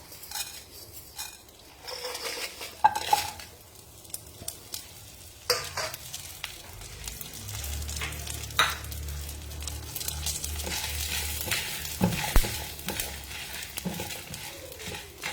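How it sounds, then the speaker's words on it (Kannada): Spices such as cumin, urad dal, white pepper, garlic and Byadgi and Guntur dried chillies frying in a pan, with a continuous sizzle under repeated scraping and clinking of a spoon against the pan, no talking. "ನಾವು ರುಬ್ಕೊಳ್ಳೋಕೆ ಏನೇನು ಮಸಾಲ ತೊಗೊಂಡಿದ್ವೋ ಅದನ್ನೆಲ್ಲ ನಾನಿಲ್ಲಿ ಒಂದೊಂದೇ ಹಾಕ್ಕೊಂಡು ಫ್ರೈ ಮಾಡ್ಕೊತೀನಿ ಸ್ವಲ್ಪ."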